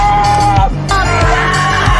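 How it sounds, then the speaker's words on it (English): Protesters yell at the top of their lungs in a crowd being dispersed, with a sustained, loud chorus of shouting voices and a few sharper cries. "At the top of their lungs, protesters continue to yell the word"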